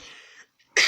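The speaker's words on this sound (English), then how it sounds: "Excuse me, I'm sorry I had to cough." A close cough: a breathy rasp, a brief pause, then a sharper, louder burst at the end.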